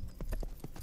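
A horse's hooves clip-clop in a medieval-themed video game, about five quick, uneven steps, close and moderately loud with no talking.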